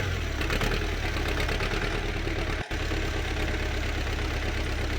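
A tractor engine in Farming Simulator 17 cranks slowly before catching, then settles into a steady mid-pitched rumble with one brief dropout, close and fairly quiet.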